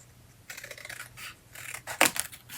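Scissors snip through paper during fussy cutting of a paper craft piece, several faint, close crisp cuts in short irregular runs with one sharper snip.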